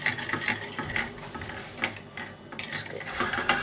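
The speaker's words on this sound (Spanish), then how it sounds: "lo vamos a ir removiendo hasta que espese" A spoon is stirred steadily through custard mixture for torta imperial as it thickens in a pan, giving a continuous close scraping and swishing with small irregular knocks.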